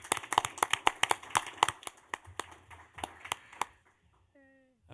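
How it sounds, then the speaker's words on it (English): A short burst of applause, many hands clapping in quick uneven claps, tapering off after about four seconds into near silence. "round of applause"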